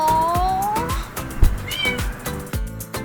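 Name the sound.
cat meowing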